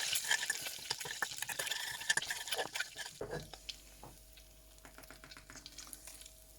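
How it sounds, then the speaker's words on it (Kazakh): Mint stirred into melted butter in a pan gives faint, close scraping and light sizzling with scattered clicks of the utensil, fading quieter in the second half. "жақсылап араластырып жүреміз"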